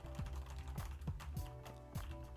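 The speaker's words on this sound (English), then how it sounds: "show you the different sounds between this keyboard and this keyboard" Steady typing on a Keychron mechanical keyboard with lubed switches and milky white tops, a fast, even run of soft, close-up keystrokes with occasional deeper thocks, heard alone without talk.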